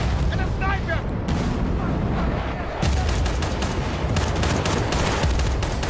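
Battlefield: Bad Company 2 gunfire amid smoke on a chaotic battlefield, sustained rapid automatic bursts with heavy booms and a dense roar of combat, loud and continuous.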